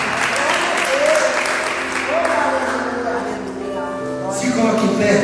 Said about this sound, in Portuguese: Aplauda o Senhor e se coloque pelo lugar.